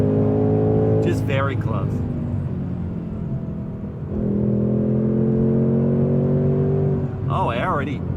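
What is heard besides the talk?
2024 Mustang GT engine revving while accelerating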